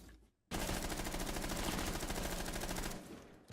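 Automatic gunfire in Rainbow Six Siege, a sustained rapid burst of about two and a half seconds, loud and close, starting abruptly and cutting off cleanly.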